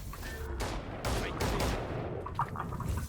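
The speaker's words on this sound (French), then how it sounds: "je viens de me prendre une rafale dans la gueule" Gunfire in a tactical shooter video game comes as a couple of dense bursts spread over a few seconds, played back at moderate volume against a steady game background.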